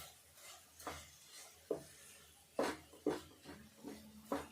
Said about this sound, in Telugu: ఇట్లా అంతా కలిసేటట్టు ఒకసారి కలుపుకోవాలి